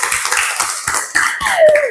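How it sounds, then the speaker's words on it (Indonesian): An audience claps together in rhythmic beats during an Indonesian classroom-style talk about dating. The steady pulses are fairly close and loud, with a brief whistle-like tone near the end. "tepuk tangan dulu untuk teman-teman yang sudah menjawab"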